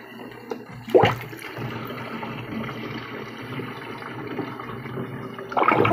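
Tap water runs steadily into a sink while whetstones are flattened and cleaned, a continuous close trickle and splash with a louder gush near the start and again at the end.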